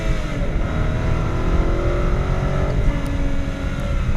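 A BMW 7 Series with the Autobahn Package pulling hard at full power down a track straight, its engine droning loud and steady with rising harmonic tones and constant road and wind roar, no voices.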